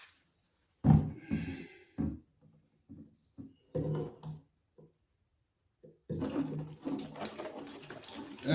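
Fruit wine is poured from a tapped container into a fermentation vessel in intermittent splashing gushes, close by, with short pauses and then a sustained stream of liquid toward the end.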